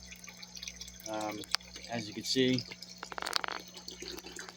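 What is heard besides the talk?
water being poured into a fish tank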